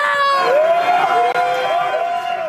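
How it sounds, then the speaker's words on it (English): Duke fans at Raleigh's My Way Tavern cheer and whoop loudly in a packed bar, a sustained burst of high, excited crowd voices. "Duke fans at Raleigh's My Way Tavern had plenty to cheer about as the game progressed"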